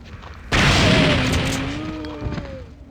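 Shotgun blast and exploding barrel in Resident Evil 3: a sudden loud boom that rolls into a long, fading rumble with ringing debris tones, no voices.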